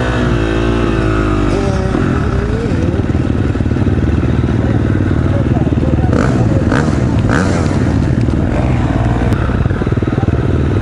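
A KTM 350 XCF dirt bike engine revs close by, a loud buzzy four-stroke note that climbs and falls in pitch with throttle blips, and a rider's voice comes through briefly over the motor.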